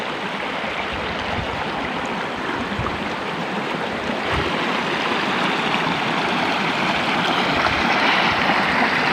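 A river in Kalongan, Ungaran rushes steadily along its rocky bed, a broad continuous wash of flowing water that holds an even, close level throughout with no voices.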